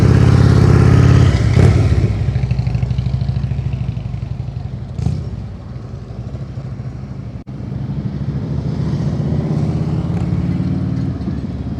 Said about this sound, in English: This throttle is so low. It's almost at idle.